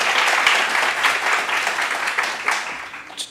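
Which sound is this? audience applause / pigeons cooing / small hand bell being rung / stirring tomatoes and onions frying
audience applause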